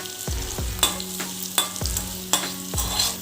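A spoon scrapes and stirs ginger-garlic paste with turmeric and salt in a hot pan, in regular strokes over a steady sizzle of frying, with no talking.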